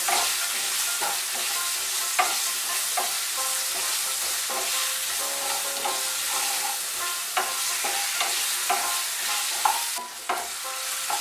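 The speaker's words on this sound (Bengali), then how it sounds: "এর মধ্যে স্বাদ মতো নুন, সামান্য হলুদ গুঁড়ো দিয়ে আলুগুলো একটু ভেজে নেব।" Potatoes fry in a pan with salt and a little turmeric for palong posto, a steady close sizzle with scraping stir strokes throughout, continuous and fairly loud, no talking.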